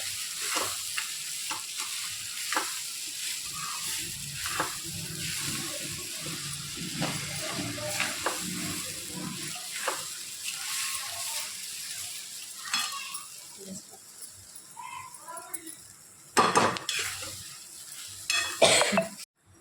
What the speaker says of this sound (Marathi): आता आपण हे मिक्स करून घेऊयात. सोयाबीन त्यात घालून घेतलेले आहे.